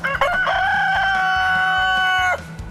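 A single loud rooster crow close by, one long drawn-out call over a low rhythmic background rumble.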